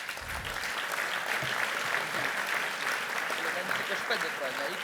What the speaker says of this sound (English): So I would kindly ask you to give them a round of applause